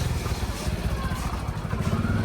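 A motorcycle rides close by through a narrow lane in Gujarat, its engine a steady, rumbling drone with some clatter, while people talk over it.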